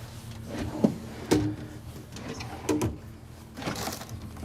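Several short wooden knocks and slides, kitchen drawers in a 2025 Renegade Valencia 38BB Super C motorhome being pulled open and pushed shut, spaced a second or so apart in a quiet room.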